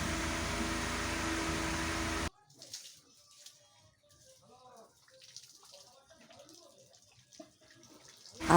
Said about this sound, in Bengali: মন মঞ্চ ধুয়ে নিচ্ছি